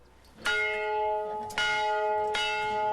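An old, rusting bell at a bar is struck three times to celebrate a score, each clang ringing out loud and clear with a long, resonant decay between strikes.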